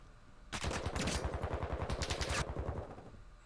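Rapid automatic gunfire in a competitive Call of Duty match, a loud sustained burst of evenly spaced shots lasting about two seconds, then trailing off, with no talk over it.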